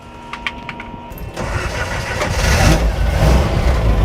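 A rebuilt car engine cranks with a few quick starter clicks, catches and fires up, then settles into a loud, close, rumbling idle with slight rises in revs.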